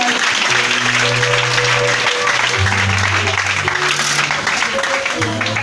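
A church congregation at a Christmas service applauds and cheers loudly and steadily, with organ or keyboard chords sustained beneath the crowd noise throughout.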